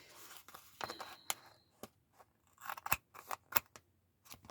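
Scissors trim a paper burger cutout for a journal, giving a series of crisp, close snips and cuts spread irregularly over a few seconds with quiet pauses between them.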